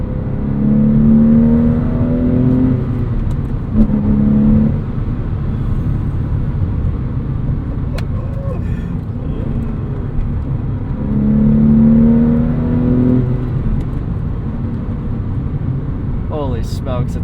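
A 2002 Porsche 911 pulls hard, its engine note climbing in two distinct surges separated by a steadier drone, loud and close from inside the cabin.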